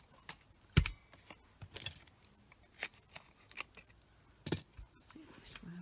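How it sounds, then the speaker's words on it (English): Scissors snipping a tag out of whisper white cardstock, a string of short crisp cuts and rustles at close range, unevenly spaced with pauses between snips. "we cut a tag out of"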